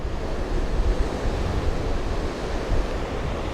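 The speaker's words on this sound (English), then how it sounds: "Maybe it's just the way the waves are hitting." Ocean waves breaking on the shore at Pacific Beach make a steady, loud wash of surf. Gusty wind buffets the microphone throughout, and no one speaks.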